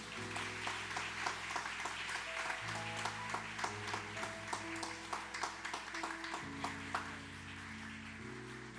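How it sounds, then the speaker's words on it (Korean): Church congregation applauding to bless a missionary being sent out, steady clapping over sustained organ or keyboard chords, tapping and pinging accents throughout. "우리 큰 박수로 축복하겠습니다"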